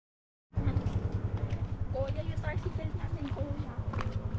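A motorcycle engine kicks in abruptly after a brief silence and runs close by with a steady, throbbing rumble, in a roadside setting in Ilocos Norte.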